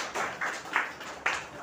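An audience claps at a road safety week event in Puri, a short crowd applause that swells in a few uneven waves.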